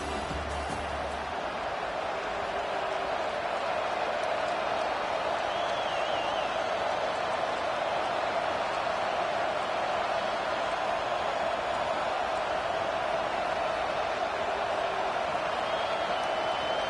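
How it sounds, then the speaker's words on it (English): A stadium crowd in a college football video game gives a continuous, dense roar with a sustained droning hum, steady and loud throughout, with faint background voices mixed in. "This crowd rising up, sensing that its defense needs some help."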